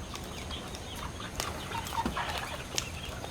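Chickens cluck faintly in a backyard fruit garden by a big oak tree, with a few short, scattered calls over quiet outdoor ambience and no talking.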